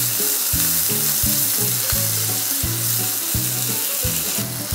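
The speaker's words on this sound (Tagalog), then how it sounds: "medyo mainit na yung mantika natin. Sunod na natin ang ating sibuyas." Onions sizzle in hot oil for a Filipino pork binagoongan, a steady hiss running throughout beneath loud, rhythmic background music with deep stepped bass notes.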